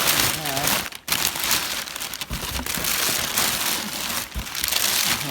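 Packing paper rustles and crinkles steadily inside a box of parts for a Dodge Ram 3500 rocker panel replacement, close and continuous, mixed with some talk.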